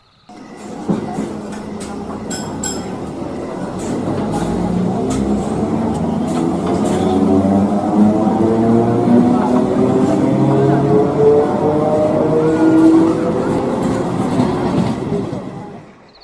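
A cartoon train pulls into a station with a loud rumble and rhythmic clickety-clack, slowing as it arrives over about sixteen seconds, then fading out, with no talk over it.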